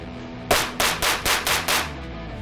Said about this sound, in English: let's do a mag dump in the studio